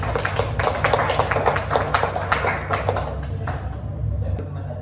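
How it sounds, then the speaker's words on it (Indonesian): Classroom students clap together for several seconds, an uneven burst of many hands up close that thins out and stops at the end. "Ya, tepuk tangan Pak Isan."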